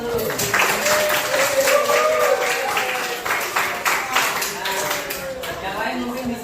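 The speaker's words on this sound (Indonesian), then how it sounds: "Oke, kasih tepuk tangan dulu." Students in a classroom clap together, a bright scattered patter of hands that carries throughout under continuous talking and voices.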